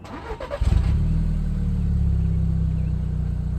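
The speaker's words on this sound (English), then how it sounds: "So let's go ahead and start it up" A 2012 Audi TTS with a turbo 4-cylinder engine cranks briefly, catches with a short rev, then settles into a steady, close idle rumble.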